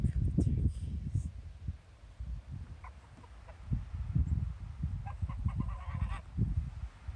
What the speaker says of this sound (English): Here come the turkeys.